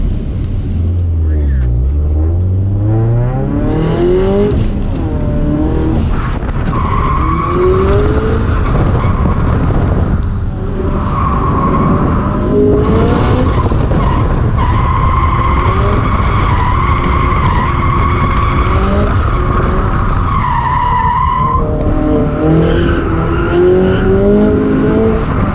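Turbocharged Scion FR-S drifting on a track: loud, continuous engine roar rising and falling through revs, with long tire squeal and skidding throughout, recorded close up with no pauses.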